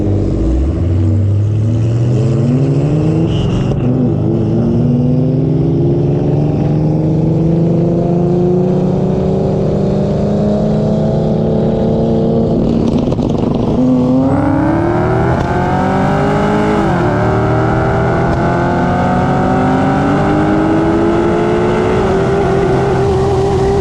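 From inside a 650 whp Cadillac CTS-V roll racing a BMW, the engine roars continuously and climbs steadily in pitch through the gears, with quick drops at each upshift, loud and close throughout.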